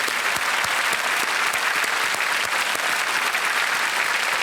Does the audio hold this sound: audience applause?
yes